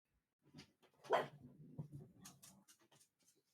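A pet dog barks and whines in a few short irregular bursts, faint and somewhat distant, with quiet gaps between calls.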